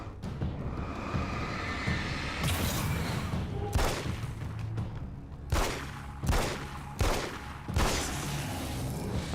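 Gunfire in the horror shooter game American Nightmare, a string of sharp loud shots spaced a second or so apart over a dense, rumbling game soundscape.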